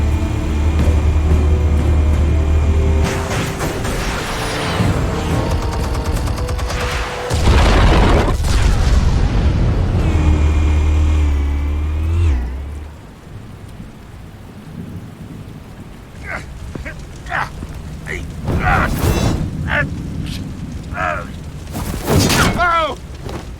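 Explosives detonate in the Batman Telltale Series video game, with heavy booming blasts and a rumbling, rain-like roar that surges and fades over about twenty seconds, followed by scattered sharp impacts, with voices speaking in places.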